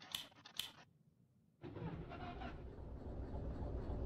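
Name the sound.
locomotive engine starting in the video game Derail Valley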